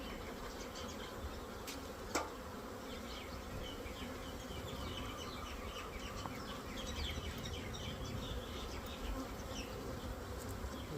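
Honey bees from a caught swarm buzz steadily and densely throughout while being moved from a nuc into an eight-frame hive box, a continuous close hum with one brief sharp knock early on.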